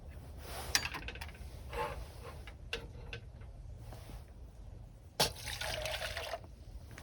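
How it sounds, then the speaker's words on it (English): Warm water trickles and splashes quietly into a container at a cold winter campsite, with a few light clinks and taps mixed in. "And then I'm gonna pour some of this warm water in there."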